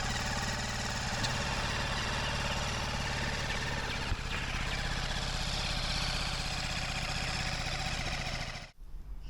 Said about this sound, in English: Start the engine and check for oil leaks.